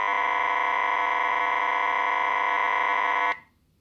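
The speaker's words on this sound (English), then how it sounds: "when I press the send button, it does this using sound like this." Data tones from a phone app sending WiFi credentials to an IoT device: a loud, steady multi-tone electronic buzz that holds for about three seconds, then cuts off abruptly into near silence.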